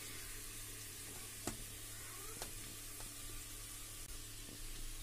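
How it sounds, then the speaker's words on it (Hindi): Ginger garlic paste sizzles with chickpeas in a hot pan: a steady, moderately loud frying hiss with a few faint stirring clicks, and no talking. "अदरक लहसुन का पेस्ट डाल के मैं एक मिनट तक फ्राई कर ली हूँ"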